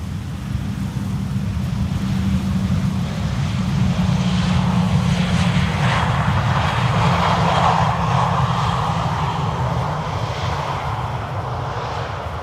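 A Transavia Airbus A321neo in retro livery on final approach to Schiphol's Polderbaan runway 18R, its jet engines a steady loud roar and whine that swells and slowly shifts as it passes, with no voices.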